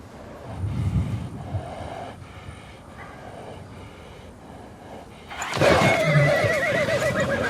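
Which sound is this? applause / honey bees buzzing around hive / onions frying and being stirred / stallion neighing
stallion neighing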